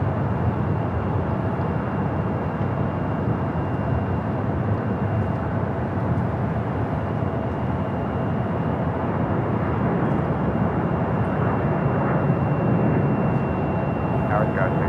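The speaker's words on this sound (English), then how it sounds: "A330 heading over there to 25 at right on the south side." A Hawaiian Airlines Airbus A330 jet taking off from runway 25 right at LAX, a continuous broad engine roar that stays loud and steady throughout, heard from a distance with no voices over it.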